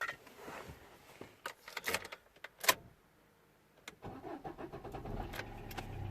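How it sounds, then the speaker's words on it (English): Clicks and clunks come first, then a starter cranks and a Corsa D car engine catches, settling into a low, steady idle. "now let's start the engine"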